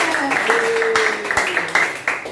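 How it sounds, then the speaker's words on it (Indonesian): Group clapping at the close of a student group session, a scattered burst of claps carrying along steadily for a couple of seconds. "tepuk tangan untuk kita semua"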